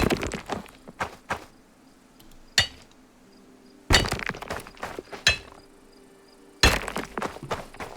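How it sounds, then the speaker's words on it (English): Stone blocks are chiseled in the farming game Ancient Farm: bursts of sharp clinking, knocking impacts in irregular clusters separated by quiet gaps. "So we'll just go ahead and chisel all this up"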